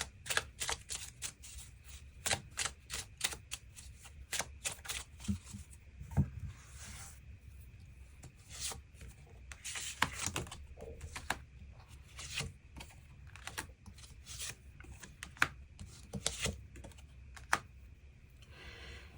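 Tarot cards are shuffled and drawn for a reading, giving a long run of quick, close, crisp riffling clicks and soft slides that come in irregular bursts, quiet and alone, with no voice.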